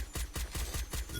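An M14 rifle in the Free Fire video game fires a rapid burst of about six loud, evenly spaced gunshots close up, with no voices.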